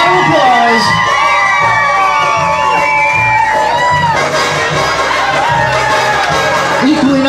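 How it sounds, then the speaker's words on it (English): Wedding guests cheer and whoop as the bridesmaids and their partners are introduced, a loud, busy crowd with shouts and chatter throughout and a voice rising near the end. "let's receive each couple with a nice round of applause"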